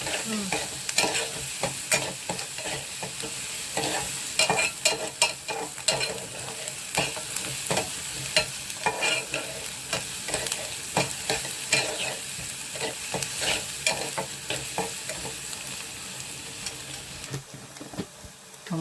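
Onions for fish thoran sauté in a pan, a steady close sizzle broken by frequent scraping stirs of a spatula that repeat in an irregular rhythm for the whole stretch.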